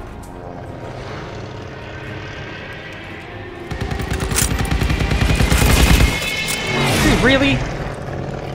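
Rapid gunfire aimed at an enemy aircraft during a Call of Duty: Vanguard battle at Tobruk, a loud dense burst building over the last few seconds, with propeller drone overhead and a voice briefly speaking.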